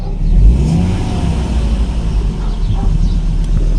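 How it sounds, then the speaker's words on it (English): A 2000–2004 Volvo V70/XC70 engine revs up sharply under the throttle, then settles into a steady, rough idle close by. "Put the throttle,"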